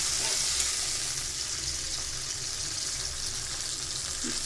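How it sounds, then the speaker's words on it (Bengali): A spice paste sizzles steadily in a pan after water is poured in, making a loud, continuous frying hiss with no talk. "পানি দিয়ে দিলাম, মশলা নাহলে পুড়ে যাবে।"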